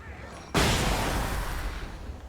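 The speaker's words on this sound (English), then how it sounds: "You know what would be a good thing to use? Flashbang." A flashbang grenade detonates in the Alan Wake video game: a sudden, loud broadband blast that hits after a brief quiet lead-in, then leaves a sustained roaring, hissing wash that slowly fades.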